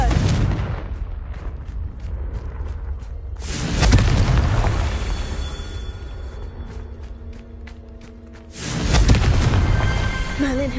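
Confringo blasting spell exploding in Hogwarts Legacy, two loud booming blasts separated by a quieter stretch, each followed by a rumbling tail amid crackling game effects.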